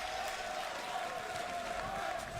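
A large arena crowd at The International 2022 Dota 2 event, a steady wash of cheering and applause heard from a distance with no break.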